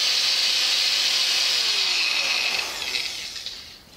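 A Dnipro-M GS 100 miter saw runs alone at a steady, loud pitch, its motor whine and airflow holding evenly for about two and a half seconds before tapering off as it winds down.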